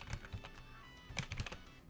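Rapid keystrokes clatter on a computer keyboard as names are typed in a typing game, uneven bursts of close clicks with brief pauses between words.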